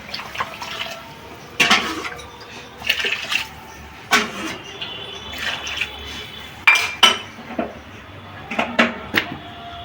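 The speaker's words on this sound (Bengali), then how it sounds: "আমার মশলা কষানো হয়ে গেছে, জল দিয়ে দিলাম। গরম জল করেছি, পাশে গরম জল দিয়ে দিচ্ছি।" Hot water is poured into a pan of fried spices while cooking an eggplant curry, producing a series of sizzling, splashing bursts. Quieter liquid sounds fill the gaps between them, heard close and alone.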